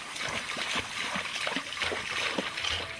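An anaconda moves through water, stirring up irregular splashes, sloshes and soft gurgles that sound close and fairly loud.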